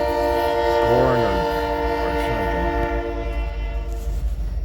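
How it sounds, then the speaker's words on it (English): A loaded freight unit train carrying grain passes near Fremont, Nebraska, its loud multi-tone horn blaring over the rumble of the rail cars, with a voice talking briefly over it. "just a unit train of grain or"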